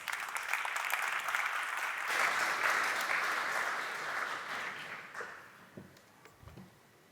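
A conference audience applauds to welcome the WindEurope CEO onto the stage, a dense burst of clapping that swells, holds for several seconds, then thins out into scattered claps and footsteps.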